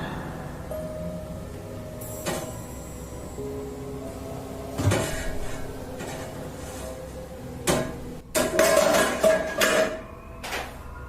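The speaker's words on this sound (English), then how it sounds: "a frying pan's handle is lifted upward, perpendicular with the counter" Soft clunks and knocks of a cupboard door opening, with scattered rattles and a clattering burst near the end as metal cookware shifts around.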